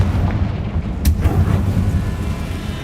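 Confringo spell blast in the Hogwarts Legacy video game, a sudden sharp explosive crack followed by a rolling low boom that fades over a couple of seconds against a dense game backdrop.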